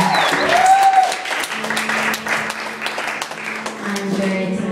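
Applause fills a small live music venue at a concert, a sustained crowd of clapping close by, with voices mixed in and a faint tone under it.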